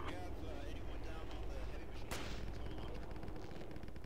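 Gunfire in the tactical shooter game Project Reality, with dense, continuous shots that blend into steady battle noise. A sharp crack stands out near the middle, and a voice talks faintly underneath.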